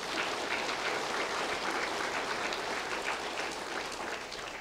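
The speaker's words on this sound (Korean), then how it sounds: "오늘 나오신 분들 위해서 우리 박수로 크게 환영하십시다" A church congregation claps to welcome newcomers during a worship service, a continuous, fairly soft round of applause from many hands that tapers slightly at the end.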